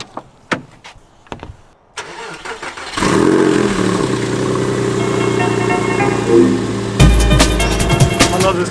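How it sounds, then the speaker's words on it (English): A Porsche 911 cranks and fires on a cold start, settling into a loud, steady idle close by, with a sharper rise in engine noise near the end. "We'll get a little cold start here in a second."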